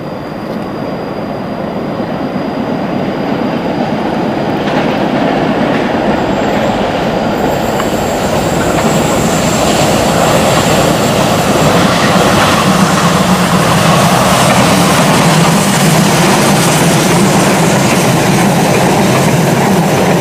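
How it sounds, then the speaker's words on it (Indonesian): The Taksaka extra passenger train from Gambir passing close by, a loud continuous rumble of wheels and carriages with squealing and rhythmic clatter that builds and holds for about twenty seconds. "akan segera melintas kereta api Taksaka kembali ya. Ini kereta api Taksaka tambahan"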